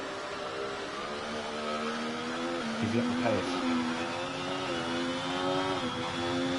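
A Kick Sauber Formula 1 car with a Ferrari engine screams at high revs in the F1 24 video game, its steady tone dipping briefly as it shifts, with a voice speaking over it.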